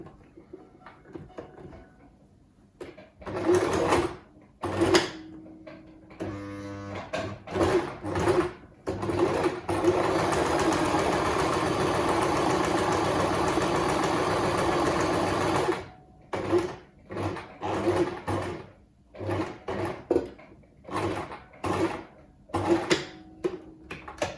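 Sewing machine running in bursts while stitching a homemade cotton face mask about a quarter inch from the edge, with short stop-start runs and one long steady run in the middle, close and clear.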